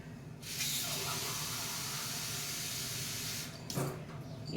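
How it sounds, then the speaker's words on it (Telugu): Water runs steadily from a tap as it is poured into pumpkin soup being prepared, a continuous close splashing hiss lasting several seconds before cutting off, followed by a brief clatter. "ఇంకా నీళ్లు పోస్తున్నాను"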